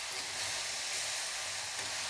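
Spicy fasting halwa being stirred in a pan, giving a steady soft sizzle and scraping hiss that continues throughout, close and alone with no talk.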